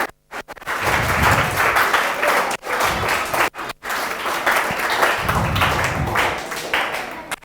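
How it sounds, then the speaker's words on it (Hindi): Loud, sustained applause from an audience opening the second session of a scientist workshop and expert talk, dense clapping filling the room with two short gaps between bursts. "जोरदार तालियों के साथ हम इस सेकंड सेक्शन को शुरुआत करने वाले हैं।"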